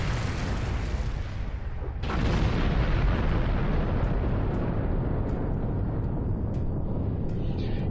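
Weapons fire destroys a sphere near Romulan ships in Star Trek Online, a heavy rumbling blast that swells and keeps roaring as a dense, continuous boom.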